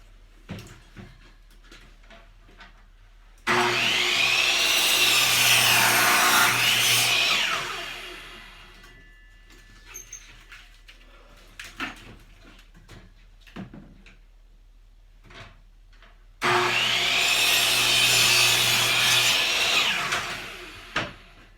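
Handsaw trimming a piece of wood in two loud bursts of rapid rasping strokes, separated by quiet handling clicks and knocks.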